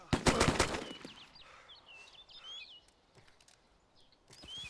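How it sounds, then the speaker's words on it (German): A gunshot from the video game DayZ, fired from a quieter weapon: a quick cluster of sharp cracks at the start, then scattered faint pops while birds chirp in the background. "Doch, ich hab geschossen."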